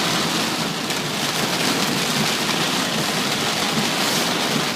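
Heavy rain pounds steadily on a moving car during a storm with lightning and flooded, slick roads, a dense unbroken roar of drops hitting the vehicle with no voices.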